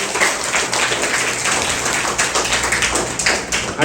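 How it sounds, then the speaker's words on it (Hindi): A group of young children clap their hands during a lively Children's Day session, producing a dense, steady patter of many overlapping claps that carries on for the whole stretch with no talking. "अब ताली बजा दो।"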